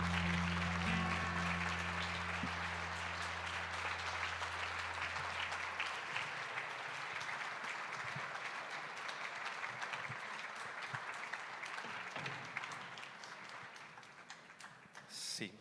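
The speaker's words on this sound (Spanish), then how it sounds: "Dale un aplauso fuerte al Señor." A church congregation applauds, a sustained, even roar of clapping hands that lasts the whole stretch and slowly thins toward the end, with a low sustained organ-like tone under the first few seconds.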